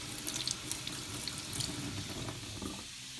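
Water runs steadily from a kitchen sink tap while onion is rinsed under the stream before being chopped for ground beef, a continuous close splashing hiss with no talk.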